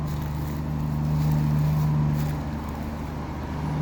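A heavy sugarcane truck engine drones steadily under load climbing a steep hill, a low labored rumble with a steady tonal hum that swells slightly midway, no voices.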